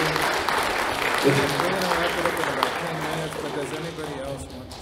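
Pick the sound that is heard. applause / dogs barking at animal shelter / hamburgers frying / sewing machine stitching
applause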